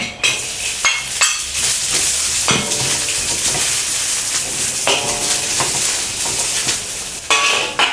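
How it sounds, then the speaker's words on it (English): Onion sauteing in a hot wok for mee goreng, a loud continuous sizzle with scraping stir strokes and occasional metallic clangs of the utensil against the pan. "Time to stir fry. Saute the onion."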